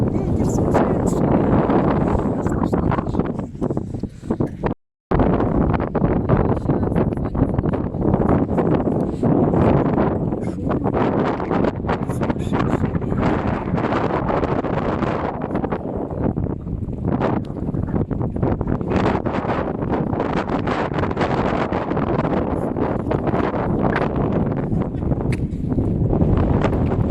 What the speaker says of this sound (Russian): ветер сумасшедший